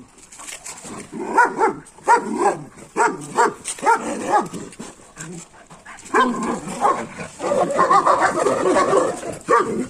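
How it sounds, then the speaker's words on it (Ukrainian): A black German Shepherd barks and yips repeatedly in short, uneven bursts nearby, with whimpering notes mixed in and a voice speaking over it. "ти на кого гавкаєш, так?"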